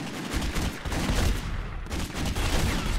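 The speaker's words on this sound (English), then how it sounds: "Open fire!" Gunfire in The Godfather video game during a gang war: dense rapid bursts of automatic and pistol shots, loud and continuous with brief lulls, no talking.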